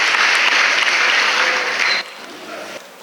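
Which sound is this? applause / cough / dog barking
applause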